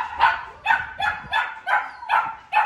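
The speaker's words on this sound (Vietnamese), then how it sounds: "Một chú cún đực rất là đẹp." A male Malinois puppy barks six times in a steady, evenly spaced rhythm, each bark a short, close, fairly loud yap with no talking over it.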